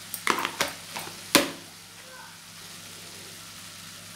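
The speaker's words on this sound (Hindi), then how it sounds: "अभी हम सारे सब्जियों को अच्छे से मिक्स कर लेंगे और धीमी आंच में 15 मिनट तक फ्राई होने के लिए छोड़ देंगे" Vegetables for street-style veg chowmein being stirred and tossed in a pan, a few sharp scraping clatters near the start over a faint, steady sizzle that continues alone afterwards.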